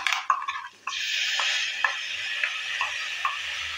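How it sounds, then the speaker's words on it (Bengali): A spice paste with ground spices fries in a pan for a soyabean and jackfruit curry, a steady sizzle punctuated by light rhythmic scrapes and clinks of stirring. "সব কিছু দেওয়ার পর হালকা একটু ভেজে নিচ্ছি আবারও।"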